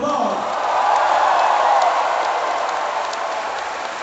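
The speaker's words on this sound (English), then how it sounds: "let's give them a big round of applause" Festival crowd at the Open'er Festival 2015 during an Eagles of Death Metal set, applauding and cheering in a broad, steady roar that swells slightly and holds for several seconds.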